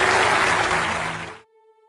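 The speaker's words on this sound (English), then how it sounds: "Just give them a round of applause." Game show studio audience applauding contestants, a dense, loud wash of clapping that fills the first second and a half and then cuts off abruptly, leaving faint tones.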